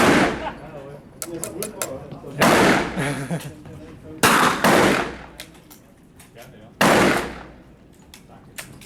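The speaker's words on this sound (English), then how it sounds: "A 5-round tactical mag dump." Five-round rapid gunfire mag dump from a rifle with a small flash hider at an indoor range, sharp loud bangs in quick bursts with ringing reverberation, separated by pauses and low talk.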